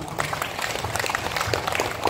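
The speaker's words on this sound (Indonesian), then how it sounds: "Tepuk tangan semua." Applause from an audience at an Indonesian community outreach session in Mojokerto, a short burst of scattered clapping at moderate volume with faint voices underneath.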